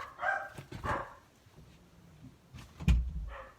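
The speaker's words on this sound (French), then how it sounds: "Les chiens qui aboient pour changer" A few dogs bark in short yips and barks at a moderate distance, interrupted by a thump, with a quiet gap between the bursts.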